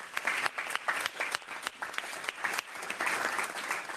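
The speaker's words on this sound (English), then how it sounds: "How about a round of applause for our panelists on the second panel?" Steady applause from a conference audience for panelists, many hands clapping continuously for several seconds with no talking.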